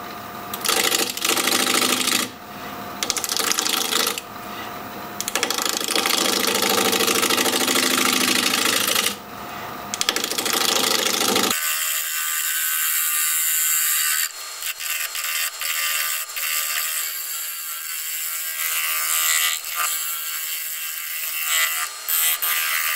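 A wood lathe turns a Siberian elm bowl, making a loud continuous whirring hum that cuts out in short gaps, then a higher, thinner whine as the cut changes. There is no talking.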